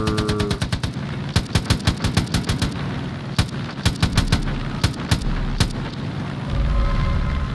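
Rapid machine gun fire from the Far Cry 5 video game, loud and close, with tight bursts of shots at the start and then scattered single shots and short bursts, over a low rumbling engine drone.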